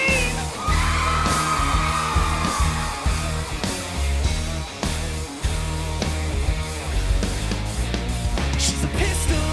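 Yelling and whooping from a crowd at a live pop-rock concert, loud shouts over pounding drums and band music with a steady beat throughout.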